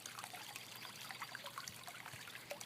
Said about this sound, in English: it goes out, flows down the waterfall, and back into the pond where the fishies live